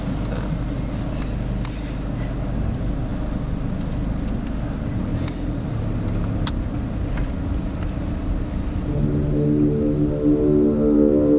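A car drives along with a steady low engine rumble and road noise, close and continuous, with an occasional faint click and a humming tone rising near the end.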